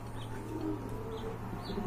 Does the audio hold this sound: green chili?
no